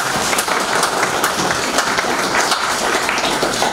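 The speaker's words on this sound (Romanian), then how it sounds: "haideți să mai aplaudăm o dată" Audience applauding at a book launch, steady dense clapping from many hands filling the room without a break.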